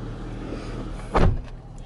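A car door opens and thumps shut as someone climbs into a 2014 Dodge Charger SXT with a power driver seat and black cloth interior, one short solid clunk close by over a low steady hum.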